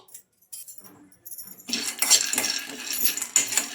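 Peanuts pour into a kadai for roasting and rattle as a busy, continuous clatter of small hard nuts on metal. A quiet stretch with a few faint clinks comes before the clatter.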